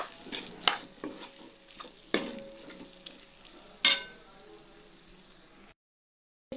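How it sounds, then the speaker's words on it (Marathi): Cauliflower pieces being stirred into masala in a pan: scraping spoon strokes with a few sharp clacks against the pan over a soft sizzle, then a short silence. "आता मी सगळं मसाल्यामध्ये त्याला मिक्स करून घेते"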